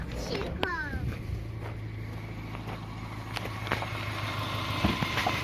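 A car engine started and idling during alternator charging tests with a DIY lithium LiFePO4 battery, a low steady hum running under a man's speech and a few clicks and knocks.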